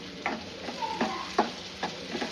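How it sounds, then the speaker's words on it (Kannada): Onion and capsicum frying in a pan for a paneer mushroom roll, a soft sizzle under several close scraping stirs of a spatula spaced irregularly. "ಆದಮೇಲೆ ಕ್ಯಾಪ್ಸಿಕಮ್ನ ಆ್ಯಡ್ ಮಾಡಿಕೊಂಡು ಎಲ್ಲ ಫ್ರೈ ಮಾಡ್ಕೋಬೇಕಾಗುತ್ತೆ"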